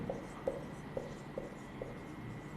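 Pen or marker strokes write a chemistry term on a board in a classroom, soft evenly spaced taps and scratches at moderate volume over a quiet background.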